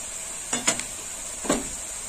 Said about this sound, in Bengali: তেলের মধ্যে একটু হলুদটা ভাজা হবে।